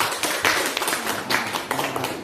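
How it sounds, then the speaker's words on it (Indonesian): A room of people at a school meeting breaks into applause, a scattered, moderately close patter of hand claps that carries on for a couple of seconds without any talk. "beri aplaus untuk"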